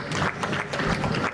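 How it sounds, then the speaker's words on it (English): An event audience claps for a panel, a dense burst of close, steady applause that fills the whole moment without letting up. "Another round of applause, please."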